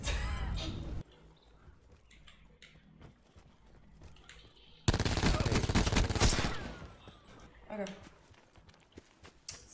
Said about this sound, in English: So we hear shots over there.